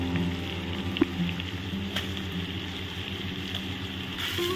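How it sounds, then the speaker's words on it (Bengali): Ridge gourd frying in oil with prawns and potatoes makes a steady, close sizzle with a constant crackling hiss and a couple of faint clicks from stirring. "ঝিঙেটাকে আমি ভালো করে তেলের সাথে ভেজে নেব।"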